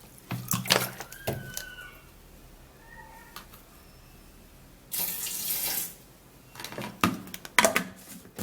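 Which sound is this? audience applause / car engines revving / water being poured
water being poured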